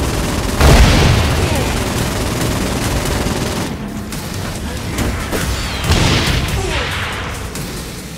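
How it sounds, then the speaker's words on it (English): The Sloth Gun, an Armchair Ageddon weapon in Saints Row: Gat Out of Hell, fires loud, dense bursts of booming blasts over about eight seconds. The barrage swells at the start and again near the end, set against a busy wash of game noise. "and thus it's the Sloth Gun."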